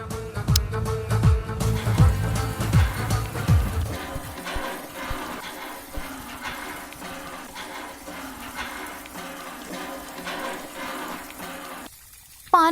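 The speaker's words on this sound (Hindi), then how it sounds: "पानी भर गया है, नीचे गिर रहा है।" Water pours into a clay pot, starting as a strong, gushing fill and then thinning into a lighter, steady trickle and spill as it overflows. The sound stays close and continuous before cutting out near the end.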